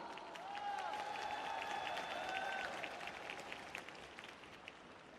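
An arena crowd at a pairs figure skating competition applauds the champions with steady, dense clapping that swells and then slowly thins, while an announcer speaks over it.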